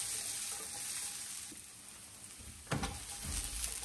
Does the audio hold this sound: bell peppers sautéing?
yes